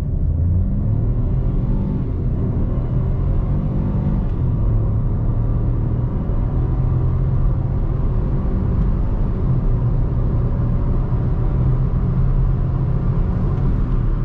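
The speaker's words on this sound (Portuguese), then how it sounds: "Vamos ver quanto que esse carro vai fazer de 0 a 100" A turbocharged Chevrolet Onix Plus launches hard for a 0 to 100 run, its engine a steady, loud, close rumble that pulls on continuously under acceleration with no talk.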